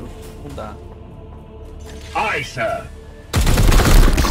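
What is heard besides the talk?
gunfire in Warhammer 40k Chaos Gate Daemonhunters video game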